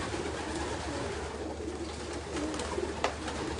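Soft, repeated cooing from a flock of 719 racing pigeons hums over a constant low background rumble, the calls near yet quiet, with one slightly sharper note standing out.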